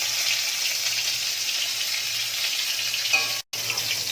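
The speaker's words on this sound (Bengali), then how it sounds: "দেখো পটলটা ভালো করে ভাজা হয়ে গেছে লাল লাল করে ভেজে নিয়েছি" Pieces of pointed gourd (potol) frying in oil in a pan, a steady close sizzle with a low hum beneath, briefly cut off for a moment near the end before resuming.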